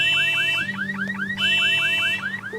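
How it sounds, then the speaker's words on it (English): A loud electronic alarm wails in a rapid repeating whoop pattern, steady and insistent, with a low hum underneath. "the buzzer will produce a loud sound to alert people nearby"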